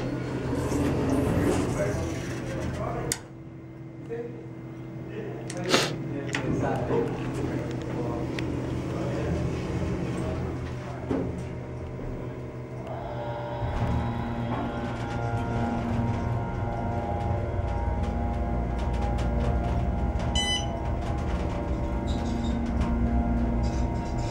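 An Otis hydraulic elevator at a Candlewood Suites hotel in Bellevue, Nebraska runs with a steady low motor and pump hum that shifts in pitch midway, with a small cab's rattles and clicks close by and a brief high chime near the end.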